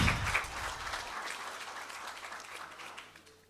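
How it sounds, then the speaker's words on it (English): A seminar audience gives a round of applause, clapping fairly faint and somewhat distant, starting fuller and gradually thinning out over a few seconds. "let's give a warm and amazing round of applause to Mayowa"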